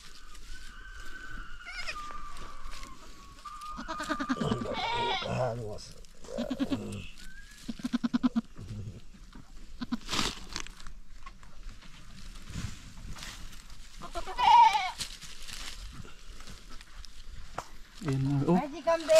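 A goat named Pura bleats a few times just after giving birth, the short cries rising out of a farmyard scene where people talk loudly nearby over steady background noise.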